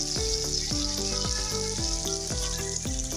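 Browned chicken and prepared masala fry in a pan with a strong, continuous close sizzle and crackle, steady and loud from start to finish.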